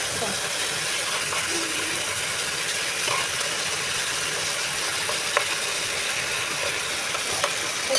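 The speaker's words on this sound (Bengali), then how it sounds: "মাছগুলোকে কষাচ্ছি একবার তুলে নিব তারপর আবার বেগুনগুলো দিয়ে দেবো" Pieces of small hilsa fish (jhatka) being sautéed in a pan before aubergine is added, giving a steady, moderate sizzle and frying hiss with occasional light stirring clicks, no talk over it.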